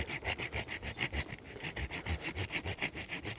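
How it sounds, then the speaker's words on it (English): A hand saw cutting slowly through the trunk of a deciduous tree, steady rhythmic back-and-forth rasping strokes, close and even in pace, with no voices. "I'm just taking my time with this, doing a nice slow cut."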